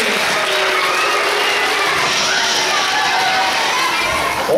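Loud, dense applause from a crowd, sustained and steady throughout with faint shouts mixed in.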